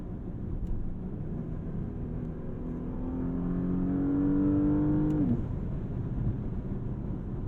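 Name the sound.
Porsche Panamera engine during a gearbox downshift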